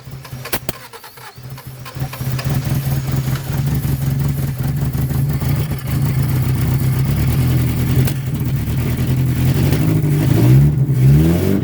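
A 1978 Honda Civic engine, unrun for 26 years and without an exhaust, turns over and catches, then runs loud and rough with a steady throaty rumble and no muffling, rising slightly near the end.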